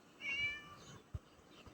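A cat meows once, short and clear, inside the horror video game Scary Teacher 3D over quiet game ambience, followed by a soft thump.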